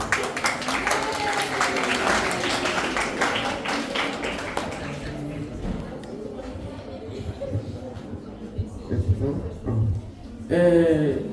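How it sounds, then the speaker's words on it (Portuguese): Audience applause follows a scene in a first-year school play staged at a literary café event, a loud burst of clapping that fades into scattered claps and murmuring before a performer starts speaking. "Palmas!"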